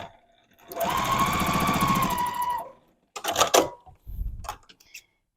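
A home sewing machine chain-pieces quilt patches in one close, rapid, even stitching run lasting about two seconds, followed by scattered clicks and handling noises.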